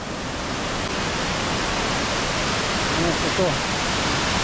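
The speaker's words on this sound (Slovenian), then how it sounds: "Neverjeten slap." A waterfall in the Holta canyon of Albania roars as a loud, constant broadband rush of falling water, with a brief voice speaking over it near the end.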